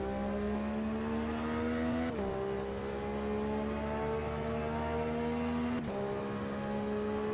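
Racing car engine in the Automobilista 2 sim, with the modded Aston Martin, Porsche and Shelby cars, holding a steady drone that drops sharply twice on gear changes and then climbs again, loud and continuous with no talk.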